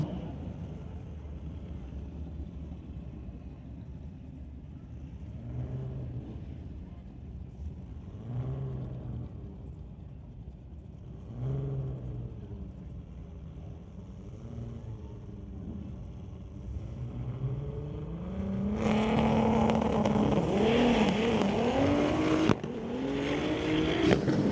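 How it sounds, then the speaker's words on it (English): A front-wheel-drive Volkswagen Golf launches down the drag strip at a Friday night street-legal event at Mission Raceway Park. The engine drones at moderate distance, then swells into a loud, sustained roar near the end as it accelerates. "He's going to hightail this one down the racetrack on the Lord Coast side with that front-wheel drive Golf."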